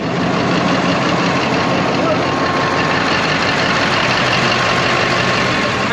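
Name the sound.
engine of large track layer equipment with 12,000 lb shank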